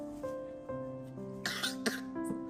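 A feverish young child coughs in two short, harsh bursts close by, heard over a soft background of steady tonal hum in an otherwise quiet room.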